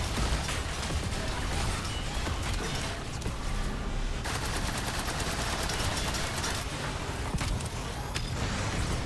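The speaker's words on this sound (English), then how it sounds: "Okay, using machine guns." Machine guns on a Warhammer Repulsor tank in Trailmakers fire in dense rapid streams, a continuous crackling rattle over a loud mechanical rumble, with a brief change in texture midway.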